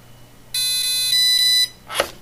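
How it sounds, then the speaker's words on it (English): A Dynam electronic speed controller for an E-Razor 450 helicopter gives a single long electronic beep confirming brake on, clear and close, followed by a brief soft noise. "Okay, that was a single beep."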